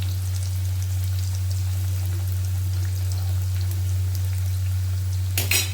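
Sweet potato (ratalu) chips frying in hot oil, giving a steady, soft crackle and sizzle throughout with a low hum beneath and a brief louder burst near the end; no one speaks.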